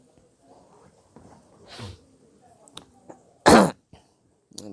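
A woman making a cardboard-and-stick picture frame coughs, one sharp, loud, close cough after a few fainter throat sounds and murmured speech, followed by a short quieter noise.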